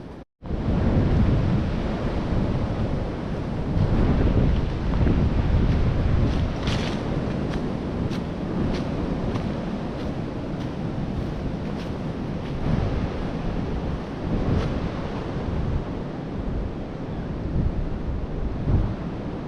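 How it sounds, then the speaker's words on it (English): Strong, gusty wind roars steadily across the microphone on a winter hike in the Great Smoky Mountains, a loud, continuous rumbling buffet with occasional sharper gust spikes and no talk. "it is windy, really windy"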